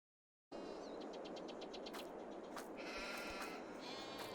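Sheep bleating in Farming Simulator 22, several short bleats over a steady farm ambience with a low engine hum, moderately close and clear after a brief silent start.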